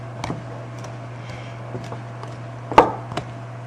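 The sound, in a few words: pastry blender cutting butter into flour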